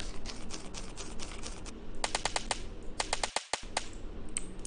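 Suppressed gunfire from the video game CrossWar, a run of quick, crisp muffled shots fired in short bursts over a steady low background hum, with brief gaps between volleys.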